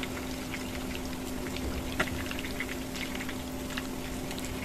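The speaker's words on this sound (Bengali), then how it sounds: "উল্টিয়ে পাল্টিয়ে এটাকে সময় নিয়ে মিডিয়াম লো আছে কিন্তু আমি এটা ভেজে নিচ্ছি।" Raw jackfruit slices frying slowly in oil over medium-low heat, a steady bubbling, crackling hiss throughout with one brief tap of a utensil midway.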